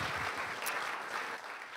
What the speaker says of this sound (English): Let's have a round of applause for our councilors